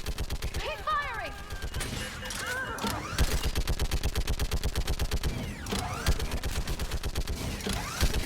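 Sustained automatic gunfire in the sci-fi shooter Mass Effect 3, rapid rhythmic bursts of weapon fire, with shouted commands and whooshing effects layered over the shooting.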